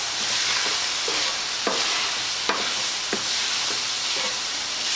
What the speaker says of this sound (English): I'm going to dump my dry taco seasoning mix right in with my hamburger. And you're just going to stir that up and get it all blended.